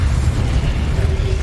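Incendio fire spell effect in the game Hogwarts Legacy: a loud, continuous roaring whoosh of flame with a deep rumbling body, heard alone and close.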